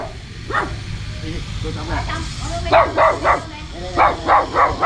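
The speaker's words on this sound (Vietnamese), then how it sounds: "Ồ quá trời chó sủa rồi." Several dogs bark in repeated loud bursts near a riverside house reached by boat, with a quick pair early on and a steady run of barks toward the end, over a low rumbling background.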